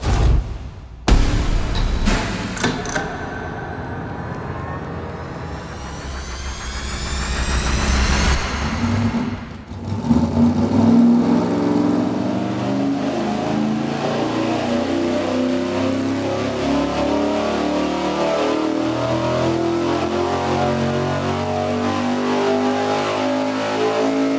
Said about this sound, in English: I guess we're supposed to run it and find out where we're at.